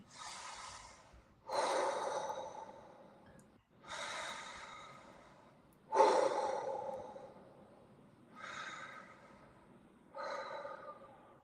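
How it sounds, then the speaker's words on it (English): Slow, deep breaths drawn in and out through the mouth only, three full in-and-out cycles of long airy inhales and sighing exhales, close to the microphone with no talking. "breathing in and out of my mouth only"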